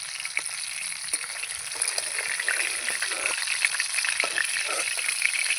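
Snakehead (shol) fish fries in hot oil in a kadai, giving a continuous bright sizzle with scattered crackles and pops that stays fairly close and steady throughout.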